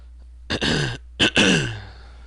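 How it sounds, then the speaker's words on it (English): Someone clears their throat twice at close range in a dry, air-conditioned room, two harsh rasping bursts separated by a brief pause against an otherwise quiet background. "I have to clear my throat a lot."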